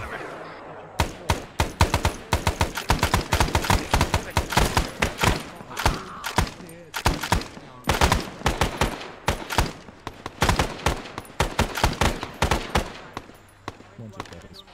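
Rapid bursts of automatic gunfire and single shots in an Arma 3 firefight, loud and close, with fast irregular volleys running almost nonstop alongside occasional voices.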